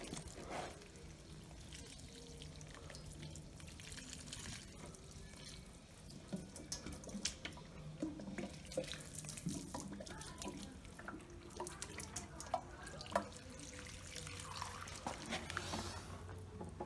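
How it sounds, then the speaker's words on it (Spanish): Water is poured onto a potted plant in a steady, faint trickle that runs for many seconds, with soft drips and splashes scattered through it. "Esta le voy a echar agua porque esta ya le hace falta agua."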